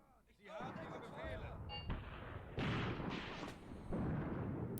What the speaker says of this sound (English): at least we have like an AT gun firing. There's mortars